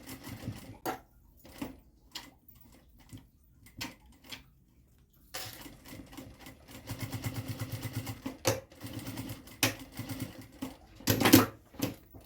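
A domestic sewing machine stitches a zipper into a fabric nécessaire bag with a narrow presser-foot seam, running in start-stop bursts of rapid mechanical clatter separated by short pauses and light handling noises.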